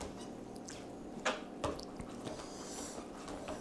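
Ghost pepper cheese ramen noodles are stirred in a bowl with little liquid, giving soft wet squishes and a couple of sharper sticky clicks over a faint steady background hum, close and quiet.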